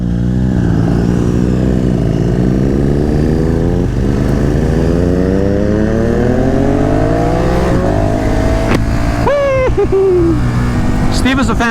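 KTM 1290 Super Duke motorcycle engine pulling hard through rising revs, its harmonics sweeping upward with each gear, loud and close, with brief voice bursts near the end.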